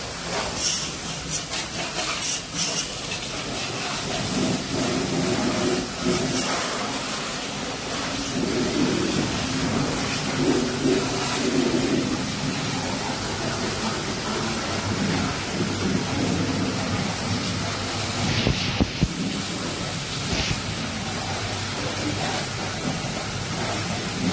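A forceful, continuous hiss of water spraying onto a car during a car wash, loud and unbroken, over a low rumbling background.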